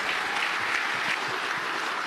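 A church audience at a pastors' conference question-and-answer session bursts into steady, dense clapping for a young questioner, the applause loud and continuous throughout.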